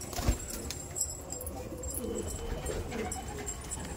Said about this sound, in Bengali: দেখুন পায়রাগুলো দেখুন, খুবই ছটপটে পায়রা।